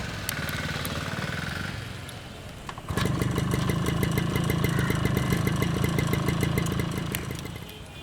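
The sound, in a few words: vehicle engine running after repair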